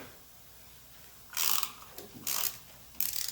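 A ratchet turning a T45 Torx driver on a motorcycle peg holder of a K1600 bagger, clicking in three short, close bursts of rapid pawl ticks separated by brief pauses.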